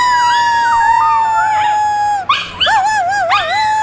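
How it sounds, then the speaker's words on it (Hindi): A pet dog being teased lets out long, wavering whines and howls, close and loud, rising and falling in pitch with a brief break partway through before the howling resumes. "उसके बाद चीकू को मैं छेड़ रही थी, आवाज़ सुनिएगा, मैं उसको चिढ़ा रही थी"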